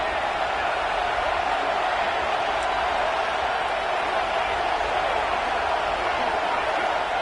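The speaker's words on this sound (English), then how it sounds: "This crowd trying to make life miserable for this offense." Steady, dense roar of a packed stadium crowd during a college football game in College Football 26, a constant wash of noise without breaks or distinct cheers.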